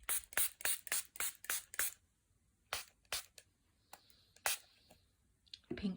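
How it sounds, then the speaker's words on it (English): A fragrant spray bottle gives a quick run of about seven sharp hissing sprays, then several more spaced-out sprays. The sounds are close and there is no talking. "So I'm going to spray that, so we'll bring those codes in."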